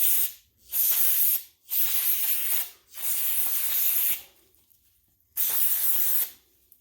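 Four loud, close bursts of brake cleaner spray hiss onto a trailer wheel bearing, each lasting about a second, separated by short silent gaps, with a longer pause before the last blast.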